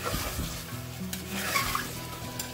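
Mutton for haleem frying in oil over a high flame, a steady close sizzle broken by the repeated scrape and clatter of a spoon stirring the pan, with no talk.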